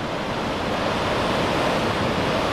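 Rough Oregon coast surf near Depoe Bay pounds against a rock shelf, throwing spray high into the air; a steady, dense roar of crashing water and wind fills the scene with no break.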